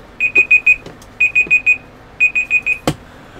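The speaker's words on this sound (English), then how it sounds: "I accidentally just started the timer again." Countdown timer alarm going off at a reptile auction, sounding three bursts of four quick high electronic beeps each, clear and fairly close, with a short click near the end.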